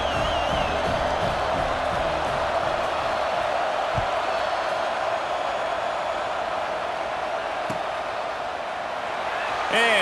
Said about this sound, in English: that last score was a real buzzkill for this crowd